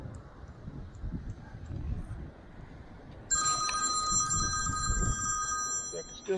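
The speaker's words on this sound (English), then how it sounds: "Sorry for the phone ringing." A telephone rings with a bright electronic trill partway through, fairly close and loud, over faint outdoor background noise during metal detecting at a beach.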